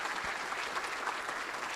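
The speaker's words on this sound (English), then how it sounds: "give these people a round of applause" Conference-keynote audience applause for scholarship recipients, a steady, even wash of many hands clapping at moderate distance, sustained and fairly soft throughout with no voices standing out.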